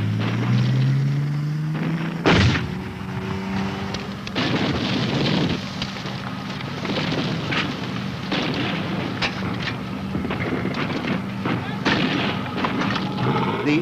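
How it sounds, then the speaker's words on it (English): British Army tanks firing covering fire in a Soviet encounter exercise: a sharp heavy blast early on, then rumbling bursts and cracks over a continuous vehicle drone, with a narrator's voice talking over it. "The tanks give covering fire."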